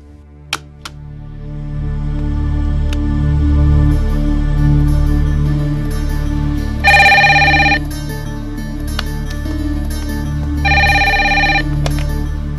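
A telephone rings in two bright, buzzing bursts several seconds apart over a low, steady background hum, with no one speaking.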